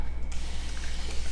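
A single short hiss of a spray bottle misting paint onto a dresser top, steady and close, lasting about a second.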